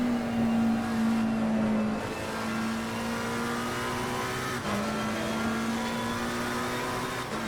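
A GT race car engine in Assetto Corsa Competizione holds a steady, loud drone through the Montreal section, with brief gear-change dips and the pitch climbing again as the car gains speed, heard alone without talk.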